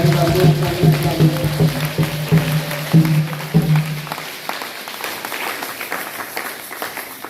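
A church congregation applauds and cheers at a night of prayer, loud steady clapping over a low sustained voice that cuts off midway, leaving the clapping to thin out and fade.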